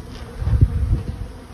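Bees near outdoor hives buzz close by in a short burst, a low droning hum that swells and fades irregularly.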